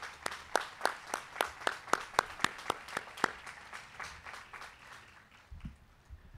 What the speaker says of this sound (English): I'd like a big round of applause for our Brentwood Board of Education